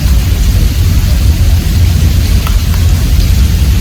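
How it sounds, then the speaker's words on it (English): Loud, dense thunderstorm downpour in Austin, Texas, roaring steadily up close, a constant heavy wash of rain with a low rumble underneath. "So it just started raining like really badly"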